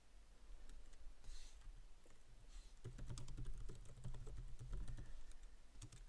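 Typing code on a computer keyboard, with quiet, rapid key clicks in uneven bursts that grow busier halfway through against a low background hum, and no voice.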